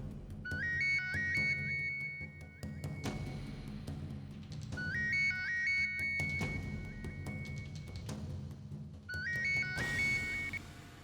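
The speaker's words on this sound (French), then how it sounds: "maman va répondre au téléphone" A phone ringtone sounds in a dubbed Indian TV drama, a repeating melodic chime pattern ringing three times over a steady background of music and low ambience, with no talking.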